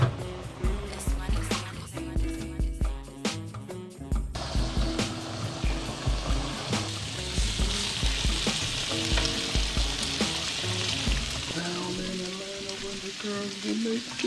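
Bacon frying in a pan for bacon mac and cheese gives a steady, close sizzle and crackle that swells into a dense hiss midway, with background music playing throughout.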